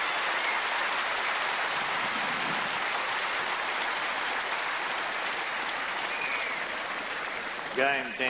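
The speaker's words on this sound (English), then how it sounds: "Tremendous applause." Crowd at the 1981 Australian Open tennis final applauding a break point in the third set, a dense steady roar of clapping that holds for several seconds, near and loud.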